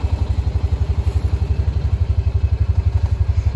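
A Honda Pioneer utility vehicle engine on a ranch chugs steadily with a rapid, even low thumping pulse, loud and close, with no talking.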